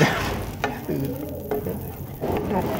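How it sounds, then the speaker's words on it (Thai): Garlic stir-frying in melted butter in a pan gives a steady, close sizzle with a few sharp utensil clicks and scrapes, with no voices over it. "ใส่ กระเทียมลงไปผัดให้พอให้หอม"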